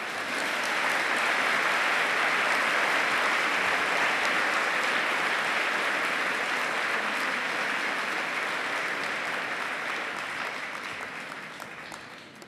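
Sustained audience applause welcoming Dr. Patel to the stage at a Nobel Conference lecture, a dense, steady clapping that holds for about ten seconds before slowly tapering off.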